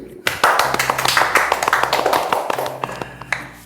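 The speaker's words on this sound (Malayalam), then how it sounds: "പോട്ടെ, കൈയടിക്കൂ." A crowd claps on request, a dense, steady round of applause with sharp individual hand claps throughout, fairly close and loud, lasting several seconds without letting up.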